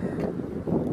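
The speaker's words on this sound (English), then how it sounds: "flags waving, pretty windy." Steady gusting wind roars and buffets the microphone, with a low flapping rumble from flags at Mission San Luis Rey de Francia, California, and no clear voices.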